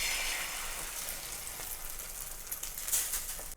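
Egg mixture poured onto a chapati tawa of hot oil, sizzling with a steady, bright hiss that stays loud and even throughout, with a few faint crackles near the end and no voices.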